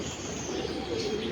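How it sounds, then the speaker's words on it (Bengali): Soft, brief cooing and chirping calls from a pet parrot, faint and close, with a gentle murmur of background noise. "এটা তো আমাদের তোতা"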